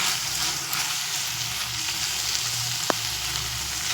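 Potatoes frying in a pan with tomato sauce, being stirred: a steady, even sizzle runs throughout with one brief sharp click near the end, and no voices.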